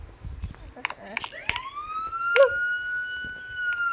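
Police siren in the Grow a Garden video game, a rising wail that climbs and holds, mid-distance, with a few sharp clicks and brief voices around it.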